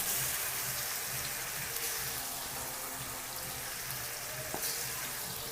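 Chicken pieces fry in a pan, a soft, steady sizzle and crackle heard close but faint throughout, with a brief clink near the end.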